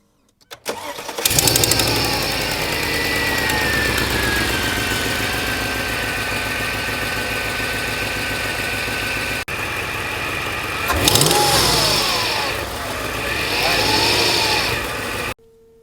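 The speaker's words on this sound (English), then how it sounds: "you got that loud ticking" A Mercedes car engine with an exhaust leak starts and idles with a fast, steady ticking running through it, then revs up briefly twice near the end, close and loud.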